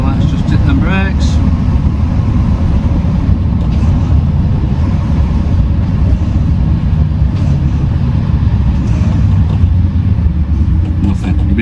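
Steady, loud engine rumble and road noise from a Mercedes Econic truck with a brake fault driving and then braking, continuous throughout with a brief higher squeal early on.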